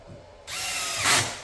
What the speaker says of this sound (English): Next, I finish off the other screws.